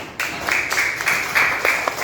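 Classroom students clapping for groups showing their posters, a burst of applause starting abruptly and continuing with rhythmic, slightly uneven claps.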